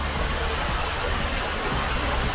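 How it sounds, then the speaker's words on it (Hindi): Water from a town centre fountain falls and recirculates in a steady, continuous broadband rush, close and fairly loud, with no voices over it. "यही पानी दोबारा ऊपर जाके वही पानी नीचे गिर रहा है"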